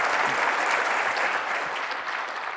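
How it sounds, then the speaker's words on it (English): Sustained applause from a conference audience fills the room, steady and dense throughout, fading slightly toward the end. "Let's give them another round of applause."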